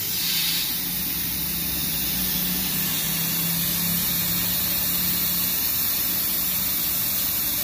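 A steady, close hiss of cleaner sprayed into a car's AC evaporator during an air-conditioning cleaning, a continuous pressurized spray filling the whole stretch with no talk.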